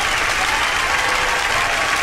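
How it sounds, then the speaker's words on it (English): Applause rises from an audience during a shoutout session, a continuous, even wash of many hands clapping at moderate distance, with no speech over it. "Applause again, please."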